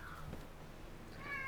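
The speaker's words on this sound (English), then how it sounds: "That's my cat meowing at me." A house cat meows softly indoors: a short, faint cry at the start, then a brighter, rising meow at the end over a quiet room background.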